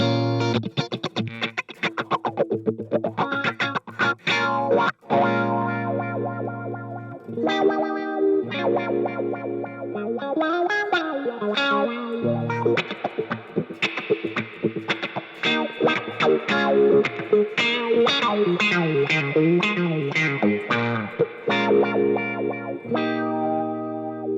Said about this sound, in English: that is when the wah-wah filter moves in the spectrum